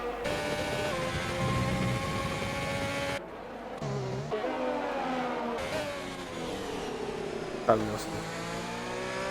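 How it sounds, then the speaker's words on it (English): Ferrari Formula 1 car engine in the F1 2020 racing game, revving hard and downshifting through a corner, with harsh, violent engine notes that drop and rise in pitch over several seconds while a commentator talks over it. "Really hear that Ferrari engine shifting down to that corner and sounding very violent."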